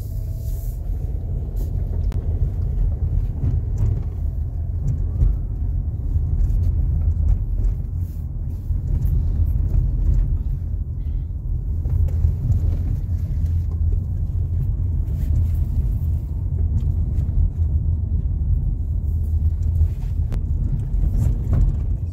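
A Skoda Kushaq 1.0 TSI automatic cruising on a highway, heard from inside the cabin as a steady, loud low rumble of engine and road noise with a few faint clicks.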